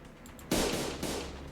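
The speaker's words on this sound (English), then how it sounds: "A loud explosion left Don Quixote dismembered where she stood." A loud explosion in the video game Limbus Company bursts in abruptly after a quiet moment, followed by a second blast and a sustained noisy roar that decays slowly.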